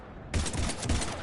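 Mass Effect 3 combat gunfire, a sudden burst of rapid automatic shots hammering in a tight loud rhythm for about a second.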